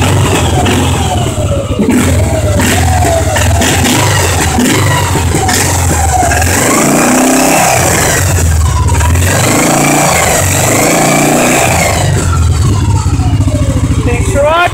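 A four-wheeler engine revs hard and loud up close, rising and falling in repeated throttle bursts over a steady idle, with a voice speaking briefly over it.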